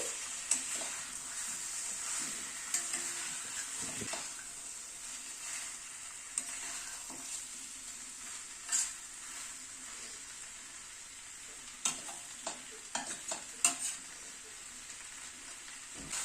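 Chicken with green peas and new potatoes sizzles in a pan while being stirred, a steady frying hiss broken by occasional scraping clicks and knocks, close and moderately loud with no talk.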